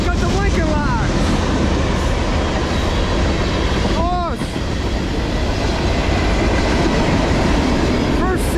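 CSX manifest freight train rolling past on the tracks at Middlesex, New Jersey, a loud continuous rumble and rattle of railcars close by, with steady clatter throughout and faint squeals from the wheels.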